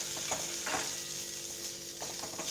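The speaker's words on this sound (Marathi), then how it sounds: "मस्त पैकी कांदा पण आता भाजत आलाय" Onion and masala roasting in a pan for spicy upma, giving a steady soft sizzle with a few faint scraping stirs, close and continuous with no talk.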